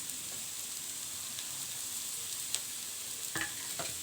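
Potato and onion masala filling for samosas is stirred in a hot pan, giving a steady, soft sizzle broken by a few light scrapes of the spoon, with no talking.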